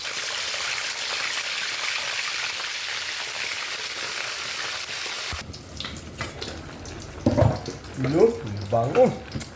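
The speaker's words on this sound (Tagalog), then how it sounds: "magprito muna tayong isda kasi yun ang ihalo natin dito" Fish frying in a pan for a Filipino home-cooked dish, a steady broadband sizzle for about five seconds that then cuts to quieter kitchen sounds with a few short clatters and voices.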